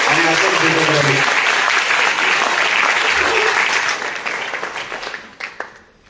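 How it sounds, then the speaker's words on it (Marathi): Loud, sustained applause from a concert audience honouring the performers, a dense wash of clapping that holds steady and then thins out and fades over the last couple of seconds. "टाळ्यांचा परत एकदा कडकडाट करतो"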